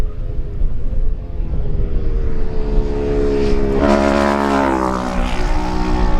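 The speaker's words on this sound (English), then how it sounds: "The first two riders to come round the bend are number 2 Andrew Farrell on his Kawasaki, chased by number 3 Gary Vines on his Yamaha." A Kawasaki and a Yamaha lightweight racing motorcycle sweep round a bend on a mountain road course, engines droning steadily and then rising to a loud, close, revving whine as they pass.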